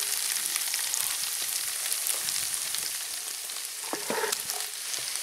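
Onions and diced ham fry in a Dutch oven at an outdoor barbecue, giving a continuous close crackling sizzle, with a few brief scraping stirs toward the end and no talk.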